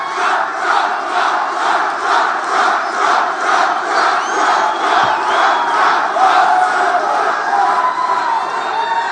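A large political rally crowd in Spokane, Washington cheers and roars continuously, with rhythmic chanting pulses and occasional whoops, loud and dense throughout.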